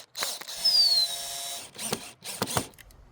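A power drill with a 5/16 bit bores into a red oak revolver grip in short whirring bursts, the first one longer and the later ones brief, close by and fairly quiet.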